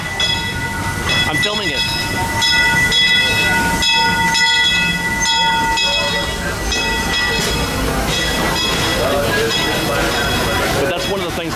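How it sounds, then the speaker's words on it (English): A train rumbles past up close and loud, wheels clacking rhythmically with a steady tonal hum, while someone speaks briefly. "Oh, look, a train. Let me see if I can film it."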